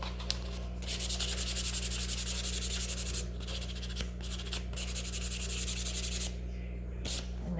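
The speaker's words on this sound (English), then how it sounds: "And now that is all sanded, so you can see that it's all kind of even." Hand sanding of a laser-cut wooden tiered tray: two runs of quick, rhythmic rubbing strokes, close and fairly soft, over a low steady hum, with short pauses between them.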